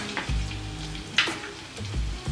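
Chopped onions sizzle in a pan, a steady close fry broken by a few clinks and scrapes of stirring, with no talk.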